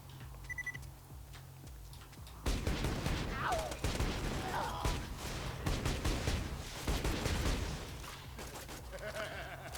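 Gunfire in the video game Borderlands 2 rattles in scattered rapid bursts and sharp cracks, some near and some distant, after a quieter opening, with a voice talking over the action.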